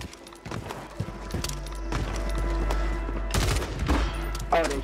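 Gunfire in the video game Warzone 3, several sharp bursts of shots at irregular intervals over a steady low background hum, moderately loud and close, with brief talk in between.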